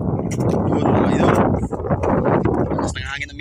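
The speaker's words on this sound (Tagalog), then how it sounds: "Lakas ng hangin amihan." Gusty amihan wind buffets the microphone with loud low rumbling, under faint voices and splashing of strong current, easing briefly near the end.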